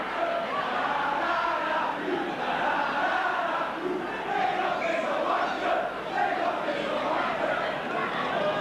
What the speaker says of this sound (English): the crowd there in unison chanting, Lindop is a wonder